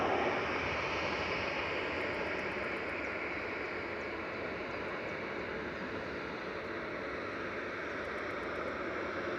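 A Virgin Atlantic airliner arriving from JFK lands at Manchester Airport, its engines making a steady, broad roar that holds constant throughout at moderate distance.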